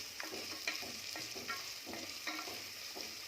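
Onion and green chilies sauté in a pan for coconut milk rice, a soft steady sizzle broken by several scraping stirs of a spatula at an even rhythm, close by and fairly quiet with no talking.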